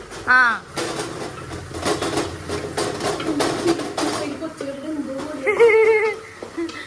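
A metal cooking pan clatters and bangs repeatedly against utensils in a home kitchen, sharp clanks coming in uneven bursts close by, while people talk over and between the strikes.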